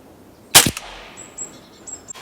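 A Hatsan semi-automatic 5.5mm PCP air rifle fires a single sharp, loud crack at close range, followed by faint metallic pings and rattles and a second small click near the end.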